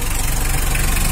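A Mitsubishi L300 diesel engine idles up close, a loud steady rhythmic clatter with a low, even knocking pulse throughout and no voices.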